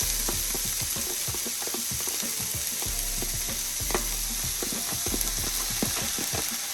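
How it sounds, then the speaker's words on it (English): Vegetables frying in a hot pan after sausage, a steady loud sizzle with rapid clicking and crackling bursts throughout, close up and without talk. "in the same pan that I use to do the sausage in, I'm going to go ahead on and add the veggies"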